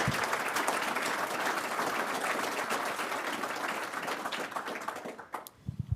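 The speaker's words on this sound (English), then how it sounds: "So maybe one more quick round of applause for everybody." A meeting audience gives a steady round of applause, dense clapping that holds evenly before thinning and stopping abruptly near the end.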